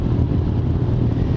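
Dirt bike engine running hard close by, a dense continuous low rumble held at steady loudness for a brief moment.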